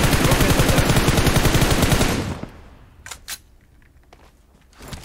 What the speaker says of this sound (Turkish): Ha roket atar attı.